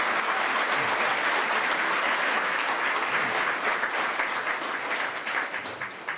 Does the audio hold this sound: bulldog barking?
no